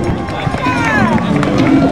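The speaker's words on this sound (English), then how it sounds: "Runners and walkers heading out right now." Runners and walkers set off at the start of a 5K race at the Niagara Falls International Marathon, with a loud, continuous crowd roar of cheering and shouting throughout.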